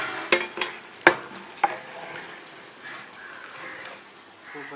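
Rice being stirred into a large pot of turkey biryani, with scraping, clattering stirring strokes over a soft background sizzle.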